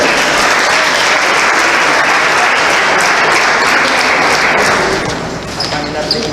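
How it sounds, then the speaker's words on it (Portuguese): Applause from an audience at a church gathering fills the clip, loud and steady for about five seconds before thinning out near the end. "um aplauso para os 20"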